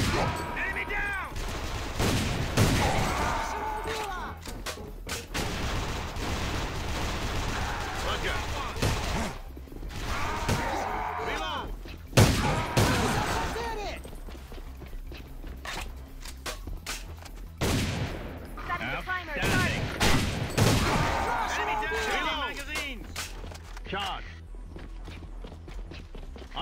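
Automatic gunfire in the online shooter A.V.A comes in repeated loud bursts with sharp cracks and pauses between volleys, while radio-style voices call out over the fighting.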